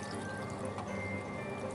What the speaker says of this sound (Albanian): mund të shtojmë edhe pak ujë këtu